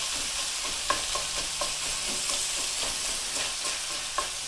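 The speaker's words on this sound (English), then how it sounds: "you just fry it up like this" Sausage with the casing removed fries in a pan, giving a continuous close sizzle with light rhythmic scraping and tapping of a utensil stirring it, no talk over the sound.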